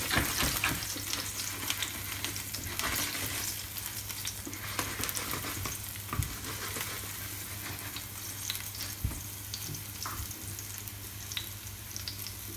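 Leeks frying gently over low heat in a pan, a steady soft sizzle with faint crackles throughout, with no talking.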